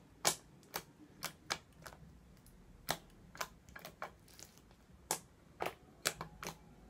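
Crisp clicking from a slime being squeezed in a click test, roughly a dozen sharp, close clicks at irregular intervals, alone without talk.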